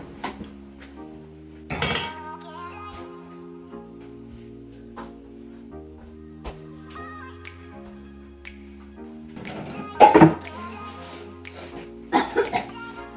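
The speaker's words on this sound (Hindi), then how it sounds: "तो छोले बन गया तो अभी मैं इसको बाउल में ट्रांसफर कर लूँगी" Utensils clink and scrape against a wok and bowl in a home kitchen while chickpea curry is moved across, giving scattered metallic knocks with a couple of louder bursts over a quiet background.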